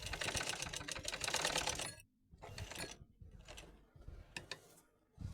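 Sewing machine stitching lace onto the edge of a saree, running in bursts with a rapid mechanical clatter, pausing briefly between runs as the fabric is guided back.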